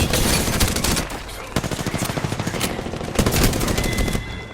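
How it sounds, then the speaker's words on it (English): Sustained automatic gunfire in the video game Apex Legends, loud and rapid bursts of shots with a steady rattling rhythm that barely pauses, close and dominant. "Opening fire on the enemy."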